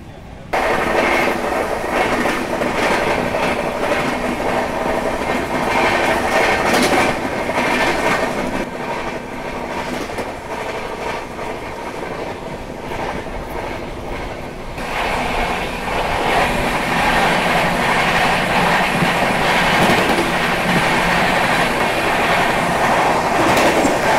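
A Banaras–New Delhi train rolls past the Kolkata Rajdhani Express in an overtake, heard as a loud, sustained rush of wheels and rhythmic clickety-clack that dips briefly midway before swelling again, with faint voices in the background.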